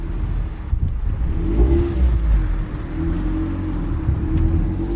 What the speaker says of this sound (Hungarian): Van újra kipufogó hang.